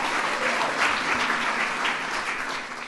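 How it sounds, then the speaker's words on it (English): An event audience gives a round of applause for a speaker who introduced the First Lady and a choir, a sustained crowd clapping that stays full and then eases slightly at the close. "So let's give her a round of applause as well."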